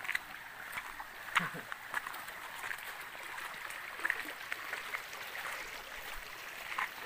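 A river flowing in a mountain setting, a continuous soft rushing and trickling of water heard at moderate distance, with people talking over it.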